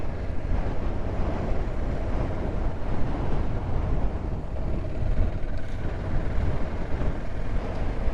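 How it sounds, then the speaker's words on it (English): Steady wind buffets the microphone of a motorcycle on a windy morning ride along the Holland Track, a constant broadband roar with engine rumble beneath it and no pauses. "Quite windy this morning"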